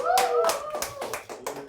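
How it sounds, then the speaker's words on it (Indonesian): A studio audience gives short bursts of clapping to welcome guest comedian Gianluigi on an Indonesian talk show, the applause mixed with voices and cheers. "mohon beri tepuk tangan yang paling meriah untuk"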